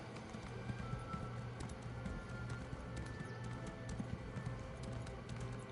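Horse hooves clip-clopping in a steady running rhythm in The Elder Scrolls Online, faint and continuous with no break and no voices over them.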